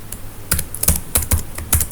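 Typing on a computer keyboard, heard as a quick, uneven run of close, crisp key taps in small clusters with short gaps between them. No one speaks.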